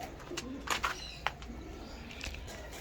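Pigeons kept in a rooftop loft coo softly at close range, a few short throaty calls and flutters over a quiet, faintly hissing background.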